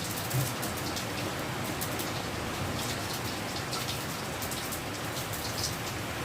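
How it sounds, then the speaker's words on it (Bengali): Bay leaves and whole cumin seeds fry in hot oil in a kadai as the tempering for a Bengali silver carp fish recipe, giving a steady, dense crackling sizzle that runs unbroken and fairly loud throughout, with no talk. "তেজপাতা আর এই যে গোটা জিরে দিয়ে জায়গায় ভালো করে ভেজে নেব"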